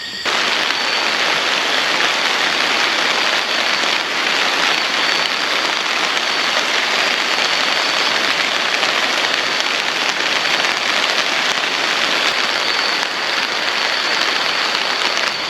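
Heavy rain pours steadily over a campsite, making a dense, even hiss that holds without a break from start to end, with no voices.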